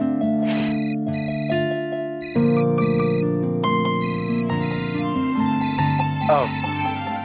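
A mobile phone ringtone plays as a bright, repeating electronic melody, loud and continuous for several seconds with no speech over it.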